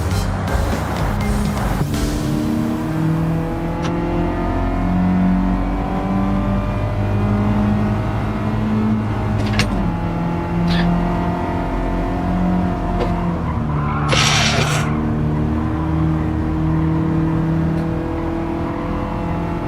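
Race car in Gran Turismo 7 driven hard in a weekly time trial, a loud steady engine drone with rising and falling revs through gear changes, brief tire squeal and skids, heard close and continuous with almost no talk.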